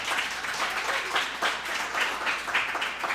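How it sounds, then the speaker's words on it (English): Applause from a small group at a flag football event, rhythmic clapping heard a bit distant and moderately quiet, with individual claps pulsing through a steady patter. "Clap that one. You got to clap that."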